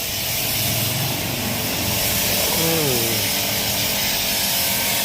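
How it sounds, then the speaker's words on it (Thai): A pressure sprayer blasts diamond car-wash foam onto a truck in a loud, steady hissing rush that swells slightly midway, with a low engine-like drone and some pitched tones underneath. "สายรถมันทุกนี่ครับฉีดลงไปเลย ไม่ต้องถูไม่ต้องขัด"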